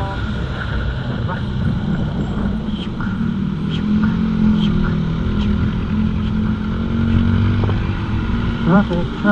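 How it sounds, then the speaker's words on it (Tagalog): Busy city street traffic in Baguio, with cars and motorcycles idling and revving nearby in a steady engine rumble, occasional horn-like tones, and people talking over it. "Traffic."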